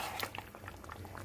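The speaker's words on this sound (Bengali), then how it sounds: "We have to fry it for or saute it for at least 15 to 20 minutes in high flame." Mutton korma sautéing in oil over a high flame, a soft steady sizzle with small irregular pops and crackles, close and fairly quiet.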